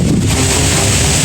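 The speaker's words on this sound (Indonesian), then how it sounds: "Dengar nggak sih angin tuh?" A brief, loud, continuous roar of strong wind buffeting the microphone, constant throughout with no talking.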